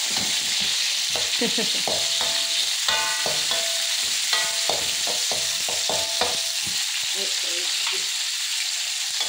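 Fish cake frying in a pan for fried mee, with a constant hissing sizzle and a spatula scraping and tapping in quick irregular strokes, close and fairly loud.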